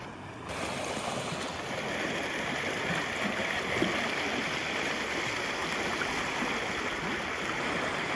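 Mountain stream water rushing continuously in Uttarakhand near a temple trail, a steady close broadband flow with no voices.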